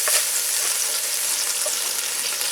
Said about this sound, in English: fry this together for a few minutes